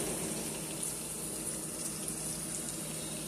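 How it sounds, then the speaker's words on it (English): Chicken wings frying in a pan over high heat give off a constant loud hiss and crackle, steady and unbroken throughout with no talking. "Let that fry. Have it on high heat."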